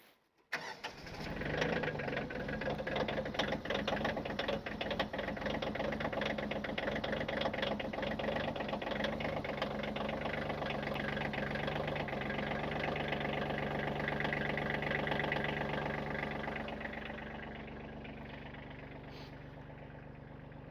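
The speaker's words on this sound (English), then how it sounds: "That Coyote tractor has been very reliable. It normally starts just right off the bat." A Coyote tractor engine starts up and settles into a steady, loud idle that runs unbroken, then quiets slightly near the end.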